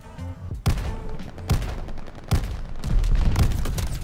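Repeated sharp gunshots from a custom-built sniper rifle in a video game, several loud cracks spaced about a second apart over continuous battle noise.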